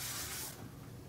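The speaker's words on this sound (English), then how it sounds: "I'm going to start by using this KQC Thermal Shine Spray." A single short hiss of KQC Thermal Shine heat protectant spray misted onto freshly washed, blow-dried hair, soft and close, fading into quiet room tone after about half a second.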